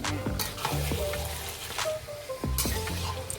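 Mutton curry sautéing with spices in a pan, a steady close sizzle of frying broken by repeated scraping stirs of the spoon against the metal.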